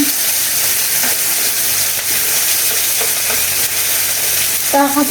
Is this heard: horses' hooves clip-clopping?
no